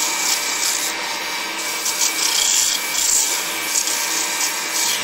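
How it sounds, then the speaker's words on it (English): Sandpaper rubs against a turned wooden acorn nut spinning on a lathe, giving a continuous close-up hiss with slight surges in intensity and no talking. "Sandpaper."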